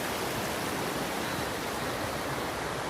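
A creek rushes steadily beneath a small trail bridge in the Great Smoky Mountains, a loud, continuous broadband wash of flowing water with no breaks and no voices.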